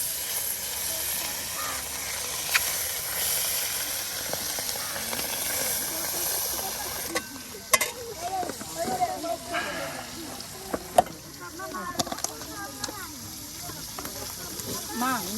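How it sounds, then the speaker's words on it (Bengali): Hilsa fish frying in hot oil beside a riverbank, a steady broad sizzle and hiss running throughout, with occasional clatters of stirring and turning the pieces, while people talk intermittently over it. "এই যে মাছগুলো দেখুন একদম বাজা বাজা করে নেওয়া হচ্ছে। এগুলা তেলের সাথে উলট পালট করে দেওয়া হচ্ছে।"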